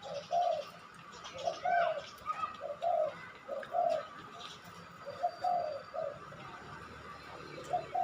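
A zebra dove kept as a competition songbird coos in repeated soft, rolling phrases at a steady pace, fairly close, with faint chirps from other birds behind it.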